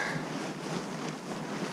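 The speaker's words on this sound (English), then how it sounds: "It is so windy down here." Strong wind blows hard and steadily at a paragliding site, a dense roar buffeting the microphone with no breaks.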